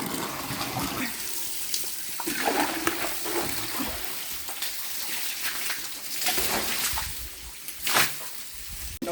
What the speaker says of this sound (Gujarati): પાણી ભરું છું ટબમાં